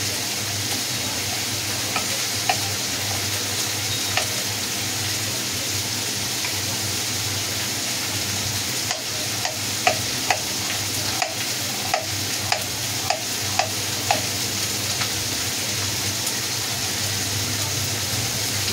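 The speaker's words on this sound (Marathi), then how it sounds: "म्हणजे मच्छी अर्धे फ्राय करून घेणार." Fish frying in a pan, a steady close sizzle with regular light clicks of stirring or turning through the second half, no speech.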